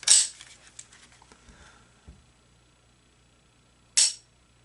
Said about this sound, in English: To demonstrate trigger pull, I'm going to load a couple of dummy rounds into the gun.